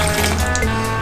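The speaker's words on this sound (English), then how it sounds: "1/2 cup of water," Half a cup of water pours steadily into a bowl of puto batter made from flour, baking powder and sugar. It makes a continuous, close splashing trickle for about a second, with no talking.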